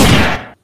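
A single loud, sharp gunshot-like blast from a toy pistol rings briefly and then cuts off abruptly.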